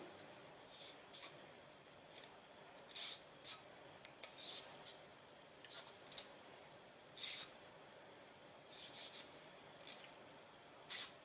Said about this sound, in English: This is just a cloth, a little nylon, not a big deal. I just want to clean out the barrel a little bit.